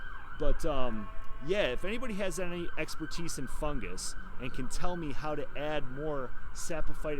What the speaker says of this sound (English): You might hear some sirens in the background